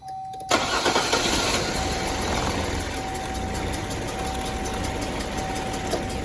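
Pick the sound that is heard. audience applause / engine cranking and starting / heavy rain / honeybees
engine cranking and starting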